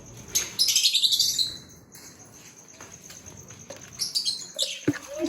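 Pet lovebirds chirp in quick, high, bright bursts close by, with a dense chattering flurry near the start, a calmer middle, and then a few more sharp tweets and a brief flutter toward the end.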